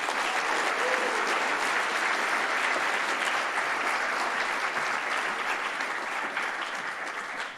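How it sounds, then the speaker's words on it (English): At a youth recognition awards ceremony in Thousand Oaks, California, an audience claps in a full, continuous round that holds steady for over seven seconds before tapering slightly. "please join me in a round of applause to recognize Olivia"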